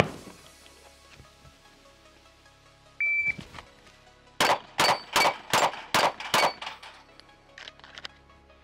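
Shots from a pistol ringing steel plates on a plate rack, a timer beep followed by six rapid clanging hits in a steady rhythm, loud and close.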